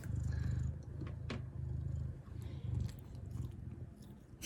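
A cat sunbathing outdoors purrs in a low, steady rumble of rhythmic pulses, close and fairly quiet, with a few faint clicks and rustles over it.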